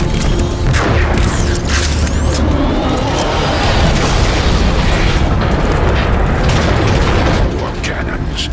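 Heavy warp cannon blasts booming through a Transformers video game battle at the Ark fortress, a dense, continuous roar of explosions and mechanical rumble, loud and sustained with music and effects layered over it.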